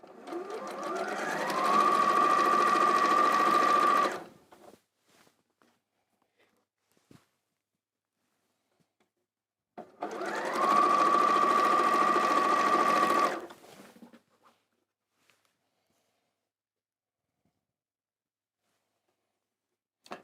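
A sewing machine stitching two quilt squares together in two steady runs of a few seconds each, its fast even whir close and clear, separated by quiet pauses with small handling clicks.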